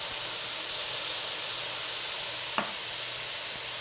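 Soy sauce hits a hot stir-fry pan, a steady broadband sizzle and hiss filling the clip with one brief sharp crackle partway through, no voices.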